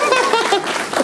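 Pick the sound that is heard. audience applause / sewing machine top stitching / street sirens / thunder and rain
audience applause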